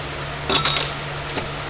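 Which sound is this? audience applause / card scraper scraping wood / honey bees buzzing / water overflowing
card scraper scraping wood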